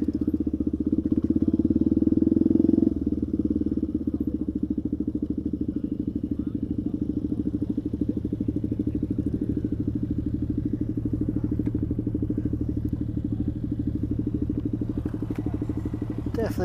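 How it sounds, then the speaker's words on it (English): Motorcycles idle at a busy Benelli ride meetup, a steady, loud low engine rumble that swells briefly at first, with a voice talking over it. "A lot of bikes. Oh, look at all these bikes."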